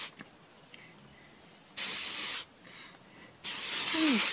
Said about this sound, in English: And you spray it all around.